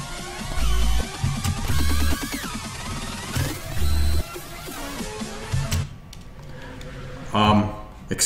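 Bouncy video game music from Drop It!, with thumping low beats and bright melodic phrases in loud bursts, dropping to a quieter, sparser stretch near the end.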